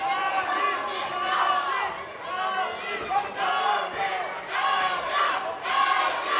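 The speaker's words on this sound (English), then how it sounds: "you can hear the chanting of both of these fighters' corners" A boxing crowd chants and shouts in rhythmic waves, voices rising and falling together at a moderate distance, filling the room.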